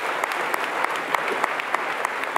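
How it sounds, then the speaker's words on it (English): An audience at a high school scholastic achievement assembly claps for a staff member. The applause is close and steady, with a dense patter of hands and some sharper individual claps standing out in a loose rhythm. "let's give him a round of applause"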